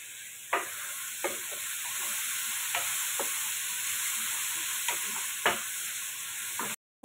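Ginger frying in a hot pan, a constant close sizzle with a high steady hiss, broken by a few sharp scrapes and taps as it is stirred.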